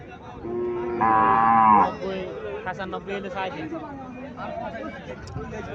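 An Indian Haryana cow gives one loud, drawn-out moo near the start, with people chattering and talking around it at a livestock sale.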